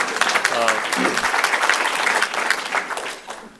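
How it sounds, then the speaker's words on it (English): An audience at a City Club talk by a presidential candidate breaks into sustained applause, steady and dense for several seconds, with a voice briefly audible early on before the clapping fades slightly at the end. "we can applaud that"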